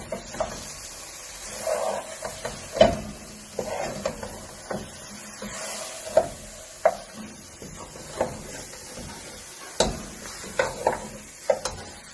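Chicken curry being stirred and mixed in a pan, with repeated scraping strokes of the spoon over a soft sizzle, close and irregular, no speech.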